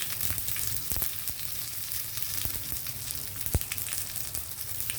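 Steady, dense sizzling of dried red chillies frying in hot oil, with curry leaves and coriander dropped in, a few sharper crackles and pops breaking through the continuous hiss.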